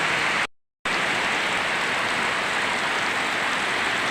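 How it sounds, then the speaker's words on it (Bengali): Steady rain pours on surfaces around a house, a dense even hiss that holds throughout apart from one brief dropout near the start, with no voices. "দেখো দেখো বৃষ্টি পড়ছে।"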